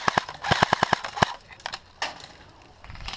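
Airsoft guns fire at an outdoor field, a quick close burst of about eight sharp cracks followed by scattered fainter shots further off.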